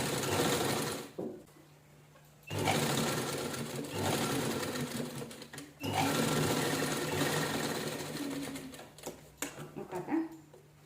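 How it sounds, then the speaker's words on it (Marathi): A sewing machine stitches an old shirt in three separate runs of fast, rattling needle strokes, each lasting a few seconds, with brief quiet pauses between them. "त्याच्यावर शिलाई करून घ्यायची एकसारखी."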